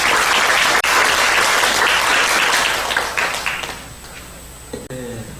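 An audience at a forum on farmers' rights in border areas applauds to welcome a lawyer to the podium, loud, dense clapping that fades out after about four seconds, followed by a cough and some faint shuffling.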